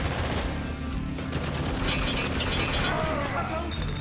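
Rapid video game gunfire crackles continuously throughout a dense, loud mix, with bursts of automatic fire and shots layered under a busy game soundscape.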